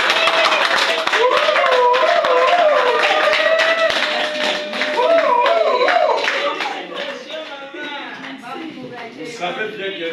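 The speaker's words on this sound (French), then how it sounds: "on acclame très fort" Applause and clapping from an audience at a certificate-presentation ceremony at a rural development ministry, sustained loud clapping with some voices and cheers mixed in, tapering slightly toward the end.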